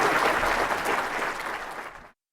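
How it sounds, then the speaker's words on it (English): Audience applause for special guest Jon Arfstrom at PulpFest 2015, a dense, steady clapping from a sizable crowd that holds for about two seconds and then cuts off abruptly. "let's get some applause for this guy"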